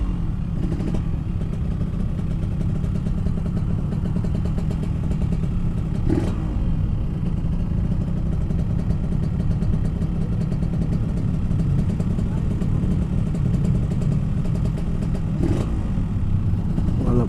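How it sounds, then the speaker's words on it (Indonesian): A Yamaha RX King motorcycle engine rumbles loudly and steadily as it rides through Makassar, with a deep continuous drone and occasional brief clattering spikes. "sebagus apa suaranya motor si raja jalanan"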